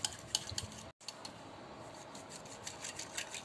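Homemade yogurt being churned in a bowl for lassi: quiet, close scraping and swishing strokes in an uneven rhythm, broken by a brief silent gap near the start.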